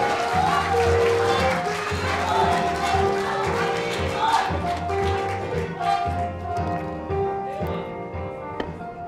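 Applause and cheering from a large crowd at a party convention as a leadership candidate is introduced to speak, with music playing underneath; a loud, sustained wash of clapping that gradually thins toward the end.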